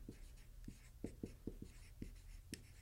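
Pen or marker strokes writing out algebra solutions, a series of soft, short scratchy taps at an irregular pace over a faint steady background hum, quiet and close.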